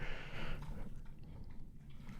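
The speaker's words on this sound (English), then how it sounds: "He's chewing on a carrot." Dog chewing on a carrot, quiet wet crunching and gnawing bites close by, irregular and soft over a low background rumble.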